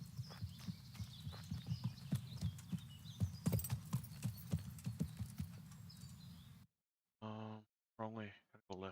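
Hooves clop in a steady walking rhythm, with a soft whinny, from a horse in the medieval game Kingdom Come: Deliverance, close and moderately loud before cutting to someone speaking alone.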